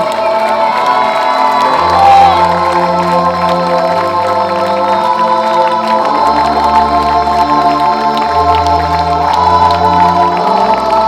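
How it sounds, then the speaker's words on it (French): A crowd at the Grand Raid ultra-trail finish on Réunion cheers and whoops for a runner crossing the line. The loud, sustained cheering runs over steady tonal music throughout. "Je vous demande de lui faire un tonnerre d'applaudissements."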